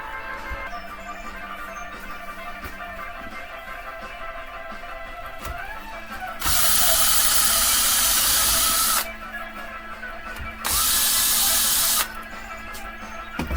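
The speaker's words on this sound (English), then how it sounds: "I still have to drill two more holes, so I'll take care of that now while I'm letting the epoxy dry" Power drill boring holes in a fan shroud, two loud, steady whirring bursts of several seconds each, separated by a short pause, close up over quieter workshop background.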